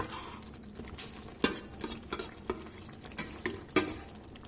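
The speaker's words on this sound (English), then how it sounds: "we'll just give it a quick stir" A spoon stirs onion, pepper and chicken in gravy in a pan, giving a run of scraping, clinking strokes about every half second over a soft steady sizzle, with two sharper knocks against the pan.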